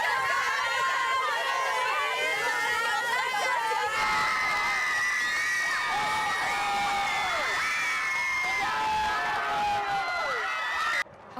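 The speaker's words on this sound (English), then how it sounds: "there's plenty of energy, ear-piercing screams, and that means it's homecoming night" A high school homecoming football crowd fills the air with shrill screams, whoops and cheering that layer over each other continuously, growing brighter and more piercing partway through before cutting off abruptly at the end.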